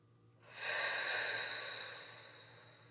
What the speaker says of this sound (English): Take a couple of nice deep breaths.